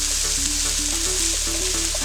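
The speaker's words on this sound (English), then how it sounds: "You hear that sizzling sound," Carrots sizzle in hot oil in a pan, a steady, dense crackling hiss running continuously, with soft tones from nearby in the background.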